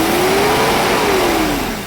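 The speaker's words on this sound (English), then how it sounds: "yes, it revs." A Mercedes W124 300E with the M103 inline-six revs up and falls back in one loud, close, continuous surge, the engine note climbing then easing off.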